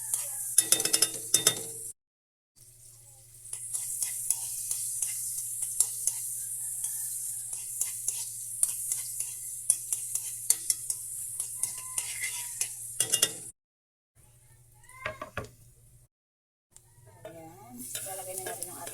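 Sliced ginger sautés in margarine in a pan for a Filipino mussel tinola, giving a steady close sizzle with scraping stirs that drops out briefly twice before resuming.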